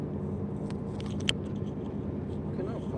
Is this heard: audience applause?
no